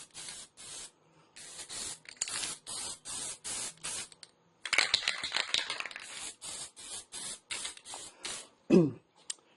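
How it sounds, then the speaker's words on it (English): Short hissing blasts of an aerosol spray can spraying onto a wooden sign, repeated in quick bursts with brief pauses, followed by a longer continuous spray, close up. "just going to continue spraying it down."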